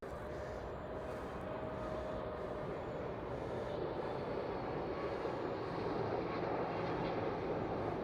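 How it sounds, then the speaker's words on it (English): An international passenger jet passes overhead on approach, a continuous low roar that builds slightly toward the end, steady and fairly distant under faint outdoor noise, with no speech. "It sounds like another plane."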